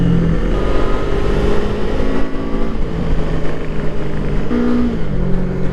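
Kawasaki Eliminator motorcycle engine running, a loud close rumble with a steady low drone and a brief rise in pitch from a rev near the end, alone without talking.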